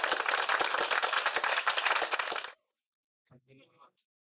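Audience clapping for a student at a campus talk show, a loud burst of many hands that stops abruptly after about two and a half seconds, followed by a brief faint voice.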